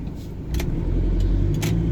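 An Isuzu MU-7 with an automatic gearbox pulls away in drive, its engine giving a steady low rumble that rises slightly as the car moves off, close and continuous, with a faint jingle near the start.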